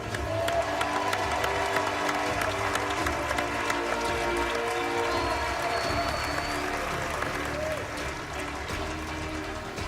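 Past competitors at a cooking-competition finale cheer and applaud together, a dense, steady wall of clapping and whooping from a crowd that stays loud and close for the whole stretch.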